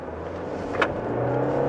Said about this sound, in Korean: 일단은 차가 주행한 상태에서 가속 페달을 깊숙이 밟으면 반응이 바로 오진 않아요